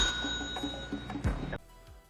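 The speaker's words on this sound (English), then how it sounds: "aggressively rings the bell like he's been waiting his whole life for this moment" A hotel front-desk bell rung in the 1986 video game Florida Straits, a bright synthesized ding with a sustained ringing tone, struck hard and repeated, loud and close before cutting off abruptly.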